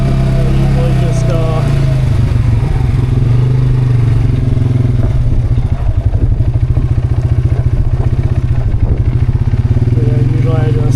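An ATV engine runs steadily throughout a ride in Wisconsin, loud and close with a rough, pulsing drone and some rattling clatter, while a person speaks over it.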